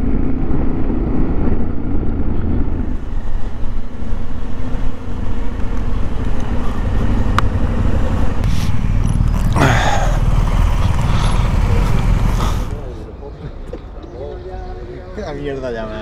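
Engine noise from a 2023 Yamaha Ténéré 700 World Raid motorcycle on a ride, a steady loud drone mixed with wind rush that drops to a quieter idle near the end, with a voice speaking over it.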